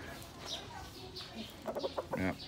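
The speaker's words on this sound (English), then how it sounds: "He's a good rooster boy." A rooster clucks several times up close, short throaty calls bunched near the end, with quiet background noise.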